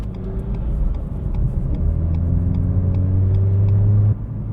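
A Renault Megane RS engine rumbles loudly as the car drives past, a rising mid-pitched drone with road noise that swells and then cuts off abruptly near the end.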